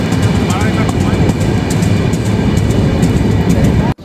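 The Ruposhi Bangla Express in Bangladesh, on its inaugural run, gives a loud, steady rushing rumble of rolling carriages and wheels on track that holds evenly throughout and then cuts off abruptly at the end.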